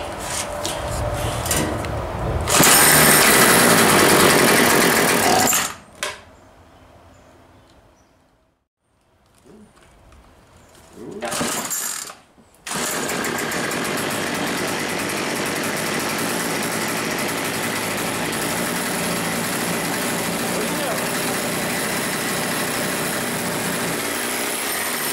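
A small engine idles after a carburetor cleaning, a loud, steady, close buzz that drops out for a few seconds in the middle, sputters briefly, then settles back into an even idle.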